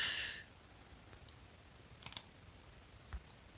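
A computer mouse clicks quietly a few times, spaced apart, over a soft room background.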